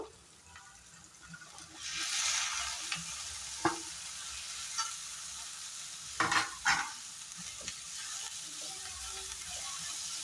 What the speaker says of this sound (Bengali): ভেন্ডিটাও ভালো করে ভেজে নেব।